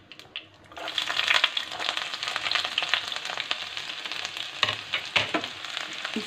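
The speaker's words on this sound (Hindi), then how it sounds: "इन्हें हल्का सा सेक लेंगे। साथ में ही डालेंगे लहसुन," Garlic with chillies is lightly roasted in a pan for palak paneer: a quiet start, then a sudden loud sizzle that stays strong with crackling spikes and occasional stirring scrapes, alone without talk.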